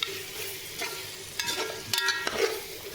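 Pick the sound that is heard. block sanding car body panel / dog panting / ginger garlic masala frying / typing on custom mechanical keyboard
ginger garlic masala frying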